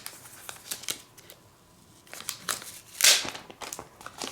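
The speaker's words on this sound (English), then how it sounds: "So now we can actually unwrap the Apple Magic Trackpad 2." Crinkling and rustling of Apple Magic Trackpad 2 packaging being unwrapped, with scattered crisp crackles and a louder tearing burst near the end, close and fairly quiet.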